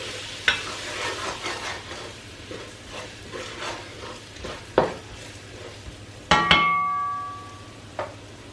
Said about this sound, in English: curry, stir everything together